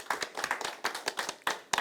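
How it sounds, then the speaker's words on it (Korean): Audience at a political forum on women's participation gives a round of clapping, sparse, separate hand claps in an uneven rhythm, fairly close and moderately loud. "큰 박수 부탁드립니다"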